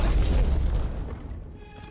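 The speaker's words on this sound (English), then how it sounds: "She drops a flashbang before she does the big move." A flashbang goes off in the Star Wars Jedi Fallen Order game as a deep, heavy boom that hits hard at once and then fades over about a second and a half.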